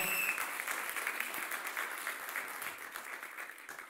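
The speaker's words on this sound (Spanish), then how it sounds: "Si usted lo cree, desde los fuertes ese aplauso" Congregation applauding in a church service, a steady dense wash of clapping that holds fairly even for a few seconds before tapering slightly.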